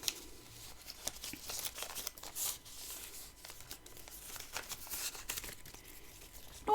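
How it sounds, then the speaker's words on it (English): Paper being folded into quarters for an art journal, a soft steady crinkling and rustling with brief crisp creases, close by and fairly quiet. "So what I'll do is I'll fold this into a quarter."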